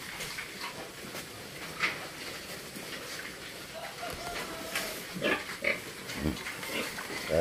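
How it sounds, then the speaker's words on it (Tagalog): Farm pigs grunt and snort in repeated short bursts at close range, scattered irregularly over a busy pen background with occasional louder squeals near the end. "Tingnan nyo naman po ang katawan ng aking mga alagang baboy."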